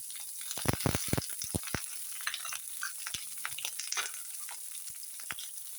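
Sliced onions and green chillies fry in a pan, a steady close sizzle with a dense cluster of sharp stirring scrapes near the start and scattered clicks after, no talking.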